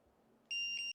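An IKEA water leak sensor alarm triggered by poured water gives a short, sharp, high electronic beep, loud and close, sounding alone after a quiet moment.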